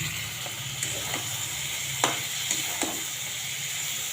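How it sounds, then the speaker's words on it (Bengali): Prawns go into a frying spice masala, giving a steady low sizzle with scattered faint clinks and stirring scrapes throughout, no voices. "মশলাটা মোটামুটি ভাজা হয়ে গেছে, আমি এখন চিংড়িগুলো দিয়ে দেবো।"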